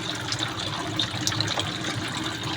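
Steady water circulation from an aquarium filter in a crayfish tank, a continuous close trickling and gushing wash with no talk.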